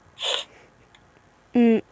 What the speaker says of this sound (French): Je suis la seule à renifler